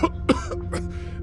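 A character in the Minecraft Story Mode video game coughs about three times in quick succession, close and moderately loud over a low background hum.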